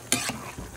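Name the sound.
stirring meat while cooking in a pot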